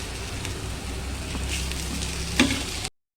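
Onions and drumsticks frying in a pan for a drumstick curry, a steady close sizzle and crackle throughout with occasional stirring clinks, no talking.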